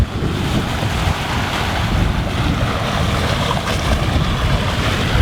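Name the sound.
ocean waves around a sailing boat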